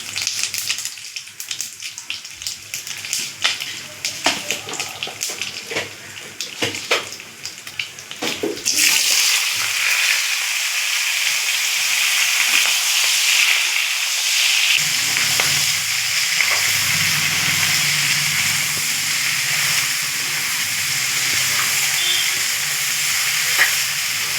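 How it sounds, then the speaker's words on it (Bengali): Bay leaf and cumin seeds sizzle in hot oil as a tempering for a bottle gourd and prawn curry, starting with scattered crackles and then swelling into a loud, steady frying hiss that dominates the sound. "তেজপাতা সামান্য জিরে দিয়ে দিলাম ফোড়নে"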